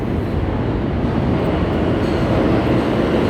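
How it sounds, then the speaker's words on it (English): A loud, dense roar of an approaching M subway train building steadily at the 47th–50th Streets–Rockefeller Center station, close by, with no voices. "You hear a subway coming. Listen to this."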